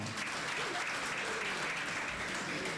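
A crowd of students applauds at an integration gathering, the clapping steady and moderately distant, blending into a wash of room noise with faint voices underneath.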